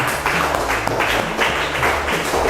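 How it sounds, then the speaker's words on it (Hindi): Audience applause at the close of a class 6 school quiz competition, a steady wash of many hands clapping that sounds moderately loud and continuous with no voices over it. "तो एक बार जोरदार तालियां सभी ऑडियंस के लिए"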